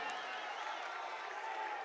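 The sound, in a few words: crowd applause at basketball game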